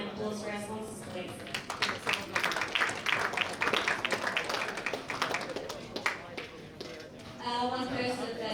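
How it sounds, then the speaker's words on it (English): A snooker final audience applauds the tournament sponsors at the Anzac Open 2018, a burst of clapping building in the middle and fading, with someone talking before and after it. "we can have a round of applause for our sponsors, please"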